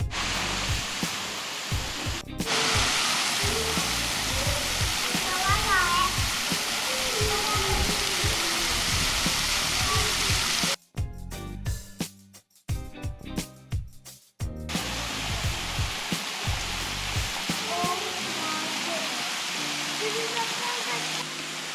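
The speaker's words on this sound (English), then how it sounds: "you get the view right here of the waterfall behind it" Steady roaring rush of Moore Falls fills the scene, heard from a cave behind the waterfall, briefly interrupted by wind buffeting, then the constant roar returns.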